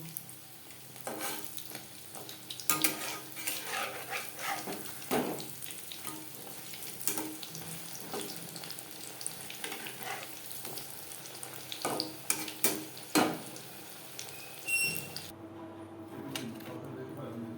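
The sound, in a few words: deep-frying egg and flour pakoras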